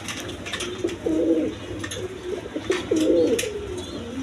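Pigeons at a breeding farm coo in low, repeated throaty phrases, close and steady, over a continuous hum of background noise, with occasional wing or cage rustles.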